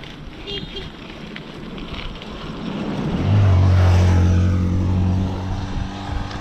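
A motorcycle on a rolling-hills road in Barangay Carmen Upac swells from a distant drone into a loud engine whine as it rushes past, then fades, over constant wind rumble.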